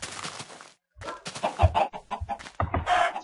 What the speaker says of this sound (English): He makes evil chickens come and attack you.